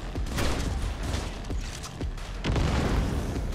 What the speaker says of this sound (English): That was a great grenade throw, by the way.